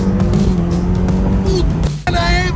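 A Ferrari sports car accelerating hard, a loud close engine roar with rising gear-change sweeps and a brief break before revving up again.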